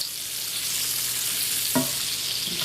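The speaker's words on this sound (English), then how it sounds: "They seem to be sizzling good." Panko-crusted fries sizzle in a frying pan, a steady bright crackling hiss throughout with a brief clatter of stirring near the end; no one talks.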